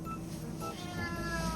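A pet cat meows repeatedly indoors at home, its cries loud and close, rising over a steady background of room noise and household clutter.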